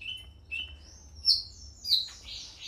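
A songbird sings bright, high chirps and short trilled phrases in a few separate bursts, fairly close, over a faint low background hum.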